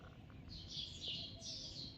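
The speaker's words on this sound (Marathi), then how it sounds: "चिमण्यांची चिवचिव चिवचिव चालू आहे" Soft, high chirping of house sparrows in short morning bursts, fairly faint and distant over a low background rumble.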